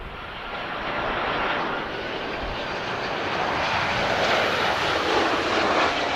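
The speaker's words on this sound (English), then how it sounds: "A nice arrival from Ryanair there." A Ryanair airliner arriving at Lisbon Airport, its engines producing a loud, steady roar that builds slightly over several seconds, heard at a distance with no talking.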